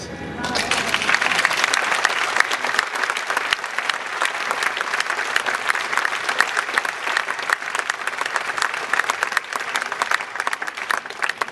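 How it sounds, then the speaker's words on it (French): An audience applauds steadily and densely at a French talk where someone speaks of entering religious life with the Visitation Sainte-Marie order, sustained clapping throughout with light crowd murmur. "Si c'est le Seigneur que vous applaudissez, ça me va bien"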